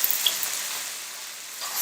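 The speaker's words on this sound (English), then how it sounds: "That water hitting the oil is what you're getting the spit and sizzle from." Loud, steady frying sizzle of potatoes in hot oil, with crackling spits from water hitting the oil, close up and continuous.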